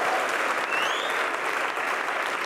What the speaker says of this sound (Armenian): Եկեք Մովսեսին ծափարենք